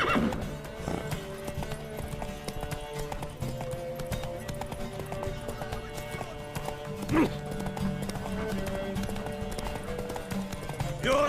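Steady clip-clop of hooves runs throughout with a horse neighing partway, layered over busy game sounds and music, in The Witcher 3.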